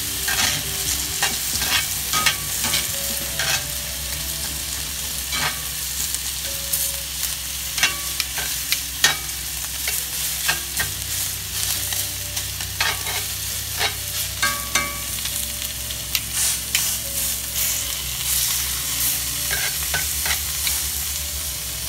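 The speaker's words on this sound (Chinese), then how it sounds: "2分钟了，我把牛排再翻一个个" Beef steak sizzles steadily in a pan during frying, a constant close hiss broken by scattered crackles and light clinks, with no one talking.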